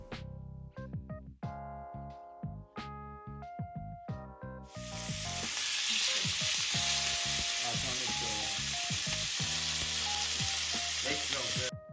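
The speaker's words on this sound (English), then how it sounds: "Put some oil on the pan, making sure to cover it. And throw your steaks on." Steaks land in an oiled pan and a loud, steady sizzle erupts a few seconds in, continuing to the end over music that plays throughout.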